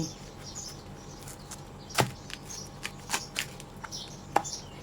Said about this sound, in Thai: หั่นหัวปีแบ่งครึ่งเลย